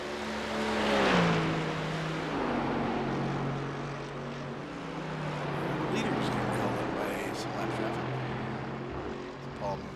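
GT3 race cars rise and fall in engine pitch as they pass lapped traffic at Mosport in a racing video game. The engine drones sit under continuous commentary from a broadcaster.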